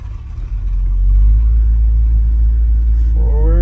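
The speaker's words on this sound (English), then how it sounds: "That is a good sounding truck right there." A 1972 Chevy C-10 flatbed pickup truck engine idles with a loud, deep rumble that builds steadily, close by, with a brief voice near the end.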